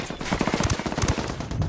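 Rapid bursts of AK assault rifle fire in Ghost Recon Wildlands: Ghost War, loud and continuous, shots rattling in quick succession throughout.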